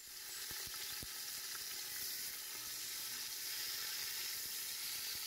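Two sliced onions sizzle in a pan of oil and ghee, a steady close frying hiss with a few soft stirring clicks and scrapes running through it, no voices.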